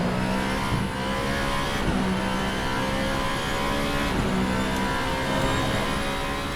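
An Alpine A424 race car engine in Assetto Corsa drones steadily at high revs, with brief dips where gears change, loud and continuous throughout.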